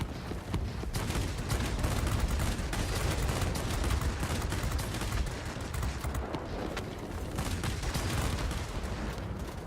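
Rapid, continuous bursts of aircraft cannon fire from a Japanese Nakajima Ki-84 Hayate fighter in the World of Warplanes video game, loud and close, with a heavy rumbling chatter that runs without pause.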